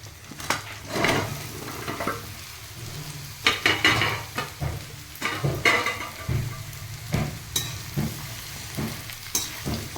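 Pumpkin pieces fry in a pan with a bed of sizzling oil, broken by frequent spatula stirs and scrapes that come in uneven bursts. It sounds close and clear, with no speech.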